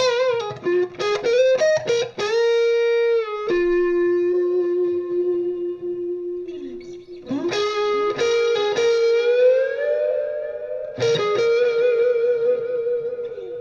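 An electric guitar runs through a reverb effect only, playing single sustained notes and short picked phrases that ring out and decay into a wash of reverb, clear and upfront.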